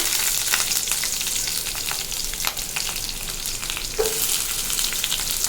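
Green chillies and small shallots sauté in a pan for okra buttermilk curry, producing a constant dense sizzle with occasional stirring clicks, close and steady with no talk.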